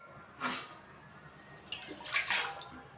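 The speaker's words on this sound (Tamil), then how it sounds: "ஒரு ஒன்றரை கப் தண்ணி ஊற்றிடுவோம்" Water pours into a mixer jar in two short, soft bursts a moment apart, close by in a quiet room.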